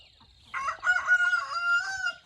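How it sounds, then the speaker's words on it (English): Rooster crowing once on a morning among excited backyard chickens, a clear, fairly close call that rises and holds for over a second before trailing off, with faint clucking beneath. "the chickens are all excited"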